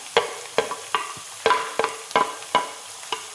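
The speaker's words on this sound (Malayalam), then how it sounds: "നമുക്ക് നന്നായിട്ട് ഇളക്കി കൊടുക്കാം." Thinly sliced garlic and ginger stirred in a hot pan for mango pickle, a run of sharp scraping stirs about every half second over a soft sizzle, close and alone.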